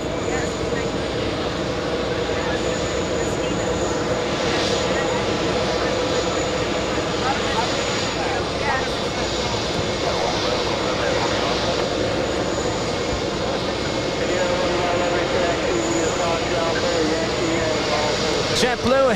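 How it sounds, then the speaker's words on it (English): A JetBlue jet taxiing toward Terminal 5 at JFK gives a steady, continuous engine drone with a high whine, close and unbroken throughout, with voices faintly underneath. "JetBlue heading to gate 1 here at Terminal 5."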